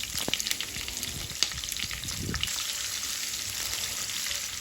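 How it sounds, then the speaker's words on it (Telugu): Green chillies and onion pieces frying in a pan with fried lentils and curry leaves for a Telugu amaranth-leaf fry, a loud steady sizzle with a few stirring scrapes early on. "ఈ పప్పులు, కరివేపాకు ఇవన్నీ వేగిన తర్వాత మనం ముందుగా కట్ చేసుకొని పెట్టుకున్న పచ్చిమిర్చీలు, ఉల్లిపాయ ముక్కల్ని వేసుకోవాలి."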